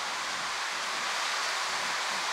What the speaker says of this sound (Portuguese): tá caindo água, ó. Olha o barulho, ó.